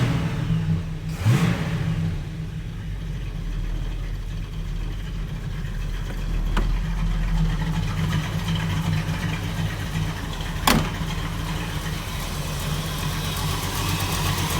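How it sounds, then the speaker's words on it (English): A 1937 Buick street rod engine with an exhaust manifold leak runs steadily up close, a low continuous rumble broken by a few sharp ticks. "Yeah, manifold leak, you hear it right there."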